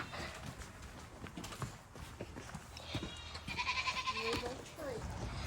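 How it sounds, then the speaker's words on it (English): Goats on a homestead bleating at feeding time, a few nasal calls near the end over shuffling footsteps and feed noise, with people talking throughout. "Now we're filling up the goat feed."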